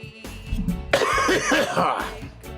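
A person gives a short, close burst of coughing and throat-clearing in a quiet room, one harsh rasping fit lasting about a second after a faint murmur.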